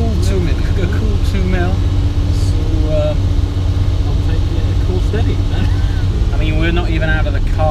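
A classic Ferrari 350 rolling out with its engine running, a loud, steady low rumble filling the cabin while people talk over it throughout.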